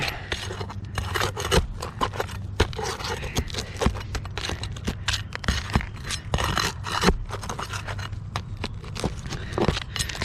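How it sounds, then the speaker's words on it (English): A nail bar pries a nail out of a roofing shingle, giving repeated close scraping and rasping strokes with sharp clicks and creaks, steady and busy throughout with no talking. "I'm going to take my nail bar, start prying it up, and then pull it all the way out"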